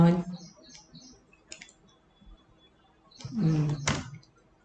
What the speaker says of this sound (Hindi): यहाँ पे क्लिक करना है